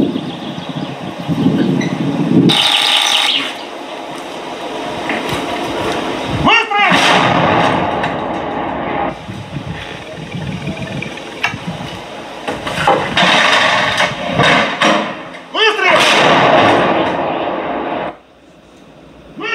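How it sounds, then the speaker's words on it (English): Heavy artillery booms out in a couple of broadband blasts amid a busy, radio-like soundscape, with a voice talking over much of it. "Let's watch another artillery piece in action."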